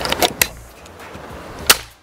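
An FX Airguns 500C PCP air rifle fires one sharp, loud shot near the end, after a few earlier clicks and knocks.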